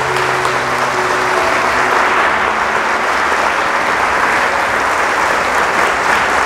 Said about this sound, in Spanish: Fuerte el aplauso a la palabra de Dios.